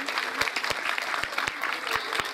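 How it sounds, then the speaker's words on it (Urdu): An audience claps at a school ceremony, dense applause with distinct sharp individual claps standing out close by in an irregular rhythm over the full stretch. "بھرپور تالیاں بجا کر ان کو اپریشیٹ کریں"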